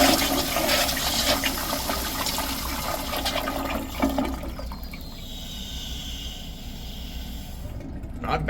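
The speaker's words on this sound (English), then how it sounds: "Let's have a look at a flush." Kohler Highcliff Waterguard 3.5-gallon toilet flushing: a loud, steady rush of water that drains away after about five seconds into a quieter hissing refill trickle, with a faint gurgle at the end.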